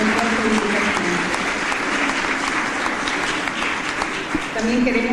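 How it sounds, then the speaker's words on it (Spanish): Audience applause at the closing of a symposium, a full room clapping steadily and fairly loudly, with people talking over the clapping near the middle and end. "Vamos a dedicarle a él un aplauso también por su esfuerzo y dedicación."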